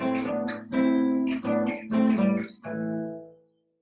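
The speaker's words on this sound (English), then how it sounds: "we actually add a little more harmony by playing the open 5th string as well." A strummed guitar chord with the open fifth string added rings out, then is struck again several times in a slow rhythm, each strike sustaining before fading into silence.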